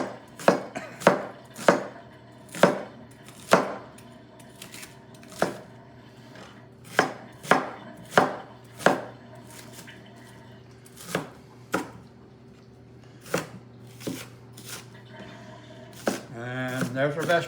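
A knife chops an onion on a cutting board for chicken fricassee, giving about twenty crisp, sharp knocks in an uneven rhythm close by. A faint hum sits underneath, and the clip ends in a brief rattle.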